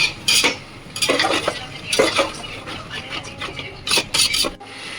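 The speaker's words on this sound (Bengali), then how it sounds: "আমি মাংসটা কষতে আরম্ভ করে দিয়েছি।" Chicken for biryani braising in a pot, with repeated scraping and stirring strokes of a utensil against the metal in uneven bursts, close and fairly loud, no voices.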